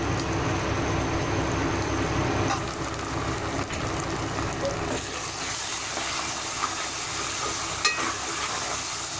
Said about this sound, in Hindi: अब हम एक बार फिर प्याज को इन सारे मसालों समेत चला लेंगे और अच्छी तरह से भून लेंगे